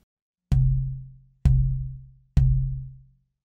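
A solid guitar top plate is tapped three times at roughly one-second intervals, each knock giving a close, resonant, low woody ring that decays smoothly; no voices.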